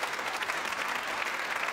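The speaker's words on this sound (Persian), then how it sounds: "آقای دکتر محمد مهدی سیار عزیز تشویقش بکنی" Studio audience applauding a guest arriving on a Persian-language TV talk show, a steady dense clapping wash that holds evenly throughout at moderate loudness, with no voices over it.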